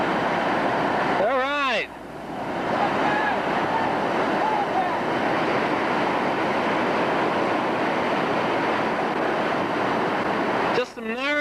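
Whitewater rapid on the Gauley River roaring steadily throughout during a rafting run, with a person speaking briefly at the start and again at the end over the constant rushing water.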